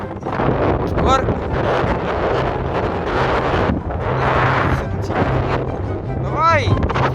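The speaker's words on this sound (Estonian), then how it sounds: "Väga tugev tuul, Hannes!" Strong wind blasts across the microphone at a cold, deserted seaside spot, a loud, continuous rumbling roar with gusty surges, while a person speaks over it.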